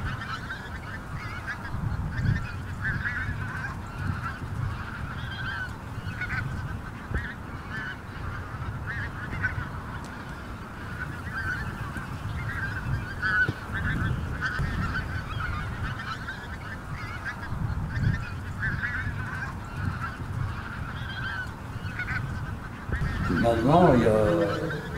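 A wintering flock of pink-footed geese honks continuously, with many overlapping calls at a steady moderate level for the whole stretch and a louder burst of activity near the end.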